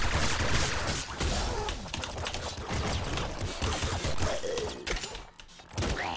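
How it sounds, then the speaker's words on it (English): Rapid, dense clattering shots from the disc gun in the video game Nuclear Throne fire almost without pause, with metallic clicks and zips layered over a busy game soundscape. "I'm low on ammo, so I'm gonna need to use the disc gun a little bit more."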